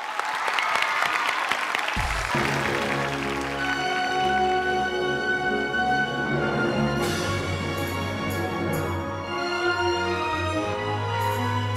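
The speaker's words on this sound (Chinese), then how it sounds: "让我们掌声有请" An audience at an opera show final bursts into applause to welcome a guest musician, dense clapping swelling from a short lead-in and continuing under orchestral music that rises and takes over.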